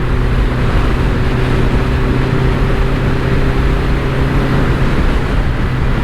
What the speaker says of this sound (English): exhaust, you know, doesn't sound too bad at speed